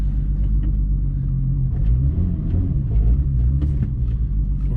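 A VR6 turbo car rolls off its ramps once the handbrake is released, giving a steady, close, low engine rumble with no voices.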